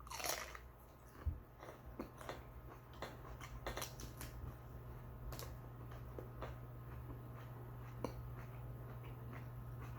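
Someone chews a 7 Pot Jonah hot pepper close to the microphone, giving faint, steady wet crunching and biting sounds over a low background hum, with no talking.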